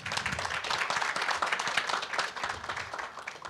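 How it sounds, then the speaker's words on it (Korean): A forum audience claps to welcome a speaker at a natural-gas industry event, a steady, fairly close burst of many hands lasting a few seconds. "큰 박수로 환영해 주시기 바랍니다"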